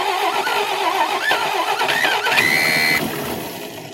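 A 1961 Studebaker engine being cranked into a brief start, a rough, loud churning and sputtering that catches for a moment with a whining tone before fading out.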